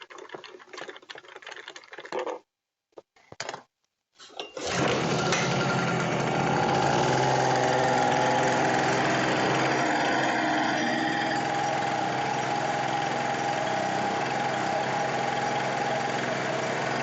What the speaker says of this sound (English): this repair of this little generator